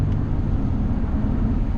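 A 2006 Bentley Continental GT Mulliner with a twin-turbo W12 pulls hard under acceleration, a deep, steady engine roar with road rumble heard from inside the cabin.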